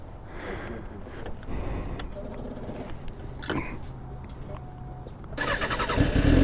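A big motorcycle starts up with cranking and sputtering, then settles into a running engine rumble that grows louder and rougher toward the end, with faint voices in the background.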